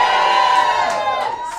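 A comedy club audience at Selva Comedy Cafe in Lisbon cheers and whoops loudly, with voices rising and sliding together in a steady, sustained roar that lasts throughout.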